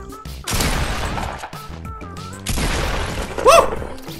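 A pump shotgun in Fortnite Battle Royale fires two heavy blasts a couple of seconds apart, each with a loud, close boom and a short rumbling tail, with faint game sounds in between.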